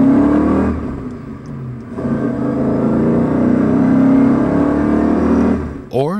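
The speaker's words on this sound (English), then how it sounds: "Listen to the excited song of a BMW engine as it accelerates." A BMW car engine accelerates with a rising, smooth harmonic growl that stays loud and close for several seconds before dropping off abruptly near the end.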